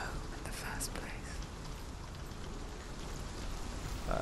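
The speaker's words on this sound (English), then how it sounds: "pissing down rain now" Heavy rain in the video game Hellblade: Senua's Sacrifice, a continuous rushing downpour with faint whispering voices drifting over it and a few brighter drip accents.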